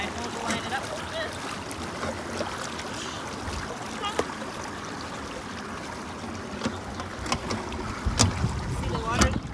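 Flood irrigation water flows steadily into a field in Arizona, a continuous rushing wash mixed with wind buffeting, with occasional sharp clicks and knocks nearby.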